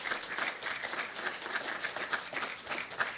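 Scattered audience applause at a government gathering, a steady patter of many hands clapping at moderate distance, fairly quiet and continuous for a few seconds.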